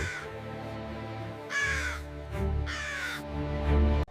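Several harsh crow caws ring out in separate bursts over a continuous low background, used as a sound effect within a told story about birds.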